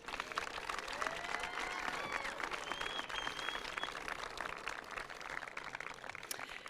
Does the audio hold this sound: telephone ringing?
no